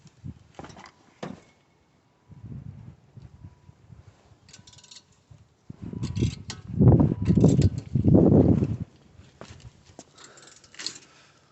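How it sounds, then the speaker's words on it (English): A wrench on an extension with a 17mm deep socket works loose a brake caliper bolt, with scattered metallic clicks and ratcheting first, then a few louder grinding bursts of strain close by, and no talking. "Here we've got an extension with a 17mm deep socket on it. We can slip that over the end here, and that'll allow us to get a little bit of extra leverage."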